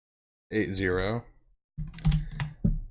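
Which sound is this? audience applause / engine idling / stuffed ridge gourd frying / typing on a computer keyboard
typing on a computer keyboard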